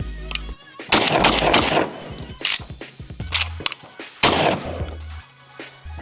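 Benelli M3 shotgun, a pump and semi-auto model, fires several loud close blasts in quick bursts with short gaps and echoing tails between them.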